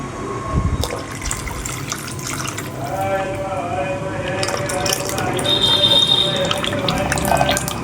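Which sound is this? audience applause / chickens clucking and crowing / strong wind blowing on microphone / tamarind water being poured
tamarind water being poured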